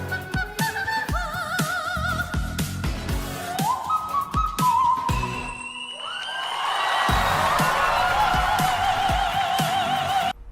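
High, warbling whistle notes glide and waver over a rhythmic backing, then a concert crowd's cheering swells up loudly beneath the sustained tones.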